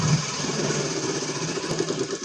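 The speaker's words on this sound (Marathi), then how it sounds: "इथे मी बरोबर अशा पद्धतीने एक थोडीशी शिलाई करून घेत आहे." Sewing machine running continuously while stitching a small section of a blouse, with a steady mechanical hum and rapid needle rhythm throughout, close and moderately loud, with no talking.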